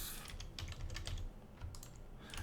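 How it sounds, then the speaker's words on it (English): Rapid typing on a computer keyboard during a Modern Skyblock 3 Minecraft session, a quick irregular run of close, fairly quiet key clicks and taps with brief pauses. "my typing skills are horrible today."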